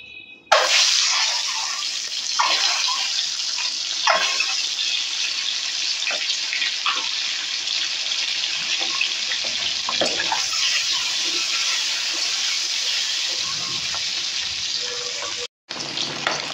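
Eggs frying in hot mustard oil in a wok, a loud steady sizzle that holds almost unbroken throughout, with occasional scrapes and clicks and a brief dropout near the end.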